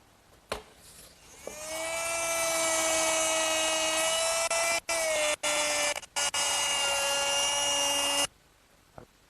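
Router whines loudly as it cuts mortises in a worktable leg held in a jig, a steady high-pitched motor tone that spins up, holds for several seconds with brief interruptions, then stops.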